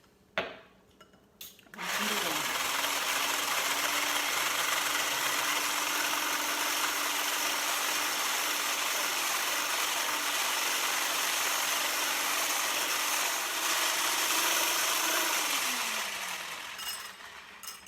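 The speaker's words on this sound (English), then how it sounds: "we're going to take our immersion blender." A steady electric whir of a handheld immersion blender whipping coffee runs continuously for about fifteen seconds, starting and stopping abruptly, loud and close with no talking.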